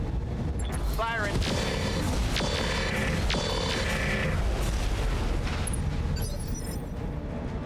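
Mech weapons in BattleTech RogueTech fire in a run of heavy booms and sharp shots, with mechanical whines, chirps and repeated pulsing tones mixed through a dense, continuous battle din.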